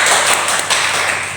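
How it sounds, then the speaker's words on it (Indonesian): Elementary school students in a classroom clap their hands in a short, brisk burst of overlapping claps, fairly loud and close. "Beri tepuk tangan pada ini."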